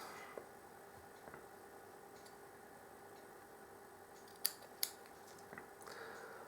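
Coil wire leads on a vape atomizer (Hobo V3 RDA clone) snipped with cutters, two small sharp clicks close together against a faint steady background hum.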